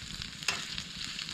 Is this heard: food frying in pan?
yes